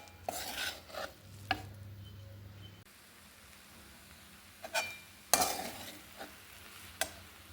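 Vegetable dish stirred and mixed in a pan, a seasonal summer vegetable: scattered scrapes and clinks of a spoon against the pan come in short bursts over a faint background, with quiet gaps between strokes.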